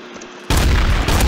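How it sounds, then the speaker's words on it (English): Sudden loud burst of gunfire in the video game Garry's Mod, a dense sustained volley that cuts in abruptly after quiet background and rings on to the end. "just shoot them"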